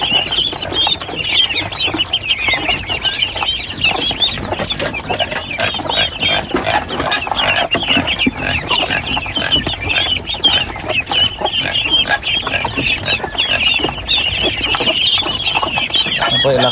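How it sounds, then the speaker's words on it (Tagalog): Farm chickens peck at feed that has fallen to the ground, with close, constant clucking and pecking throughout. "Yung nagalaglag naman sa baba, kinakain ng mga manok."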